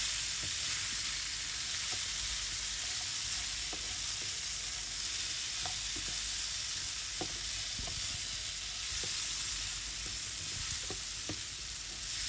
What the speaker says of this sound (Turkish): Malzemeyi tavada düzeltelim güzelce karıştırdıktan sonra.